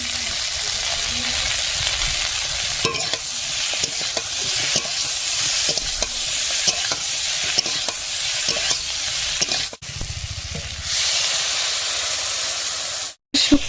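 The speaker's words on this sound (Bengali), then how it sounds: "শুক্তোতে জল দিয়ে দিলাম" Shukto curry with fish sizzling and steaming hard in a wok as water goes in, a loud continuous hiss with stirring scrapes, briefly dropping out near the end.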